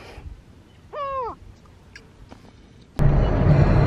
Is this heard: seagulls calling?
yes